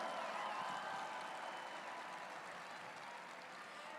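Crowd at an outdoor solidarity rally in Minnesota applauding local businesses, a broad wash of clapping at moderate distance that slowly tapers off, without speech over it.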